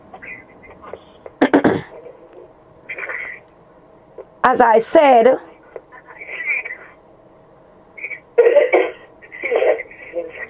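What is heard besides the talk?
someone coughing in the room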